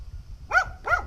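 Two sharp, close dog barks in quick succession, loud and clear against a quiet background, heard in a small village.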